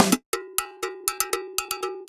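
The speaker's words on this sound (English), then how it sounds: "salsa perc loops. You have the percussion kit. It's like chopped up. And you also have these loops." Time-stretched salsa percussion loop from Sample Tank, led by a bright ringing cowbell struck in a quick syncopated pattern of about ten hits, with a smeared, slightly warbly time-stretch artifact on the tails, played alone at moderate volume.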